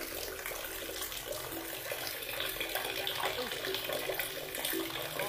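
Water gushes from a faucet fitted with a car-washing shower hose, producing a steady, continuous rush of spray that stays even throughout.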